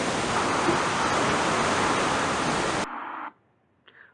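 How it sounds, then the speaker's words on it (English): A loud, constant rushing noise like a waterfall, made from filtered white noise, fills most of the clip, then drops to a thinner hiss and stops abruptly. "or the sound of a waterfall."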